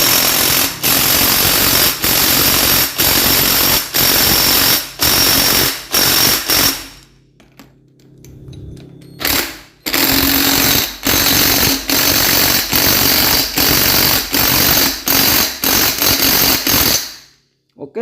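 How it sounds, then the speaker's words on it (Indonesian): Pneumatic impact wrench loosening motorcycle clutch bolts in a workshop: loud rapid hammering bursts in repeated runs, a short pause with quiet handling noise, then more long rattling bursts, up close with no talk. "sekarang kita impact saja di bagian sini"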